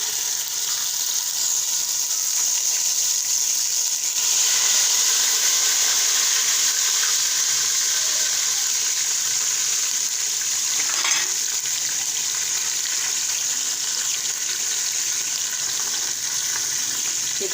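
Whole spices fry in hot oil for chicken korma, a steady close sizzle with a bright hiss that grows slightly louder partway through, and a brief stirring scrape in the middle.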